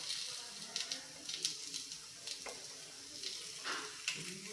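Semolina mixed-veg appe sizzle softly in an appe pan as they are flipped one by one, with faint scraping clicks and light crackle at low volume.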